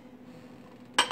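A Corningware Spice of Life little saucepan clinks sharply against a hard surface after a quiet moment, a bright ceramic knock followed by a softer rattle as it is handled.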